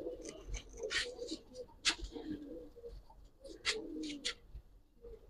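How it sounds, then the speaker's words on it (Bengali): A pair of old-breed Giribaz pigeons coo softly at close range, with low throaty murmurs broken by a few brief higher sounds, over quiet background noise. "অনেক উন্নত মানের একজোড়া কবুতর"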